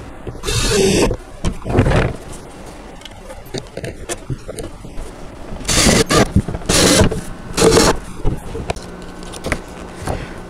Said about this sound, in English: So I'm going to put the 3 screws on here.